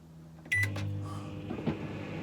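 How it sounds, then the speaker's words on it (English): A microwave oven powered through an inverter starts with a beep and a clunk, then settles into a steady low hum close by, with a faint click midway. "So we have microwave going"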